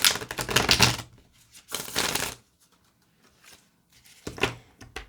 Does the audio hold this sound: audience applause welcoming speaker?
no